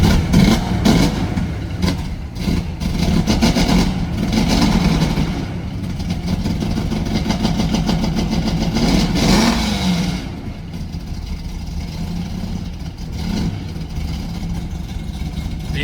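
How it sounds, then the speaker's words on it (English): A cold 1973 Plymouth Barracuda AAR replica's cammed V8 engine rumbles close by, its revs rising and falling in several surges before settling into a rougher, lower idle. "The engine is cold, so give it a little bit."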